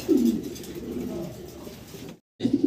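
A rare fancy pigeon at a sale coos close and clearly, with throaty rolling calls at the start and again after a brief silent gap.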